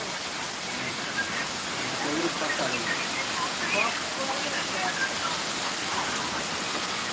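Steady rain falls in a dense, even hiss that stays loud and constant from start to finish, with no pauses.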